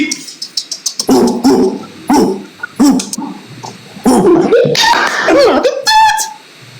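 A dog barks several times in short bursts close by, mixed with lively overlapping voices and laughter from people talking over it.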